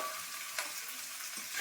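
Potatoes, cauliflower and peas stir-fried in a wok, a steady faint sizzle with occasional scrapes and clinks of a spatula, no voices.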